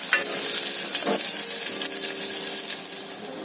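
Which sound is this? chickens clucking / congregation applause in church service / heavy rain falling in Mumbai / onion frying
onion frying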